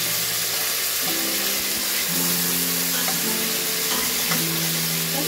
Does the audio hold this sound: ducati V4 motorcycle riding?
no